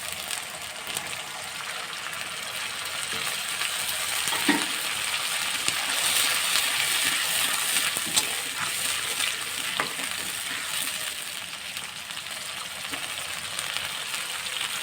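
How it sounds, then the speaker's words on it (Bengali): Water poured into spices in a cooking pan while preparing pabda fish, giving a steady, fairly loud sizzle and bubbling hiss with occasional stirring scrapes, heard alone throughout. "মশলার ভিতরে আমি একটু জল দিয়ে দেবো।"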